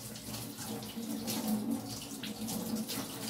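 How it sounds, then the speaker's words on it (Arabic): Ordinary tap water runs steadily from a faucet, a close, continuous splashing flow that lasts the whole moment without speech. "ميه فترة من الحنفيه، الميه بتاعتنا العاديه"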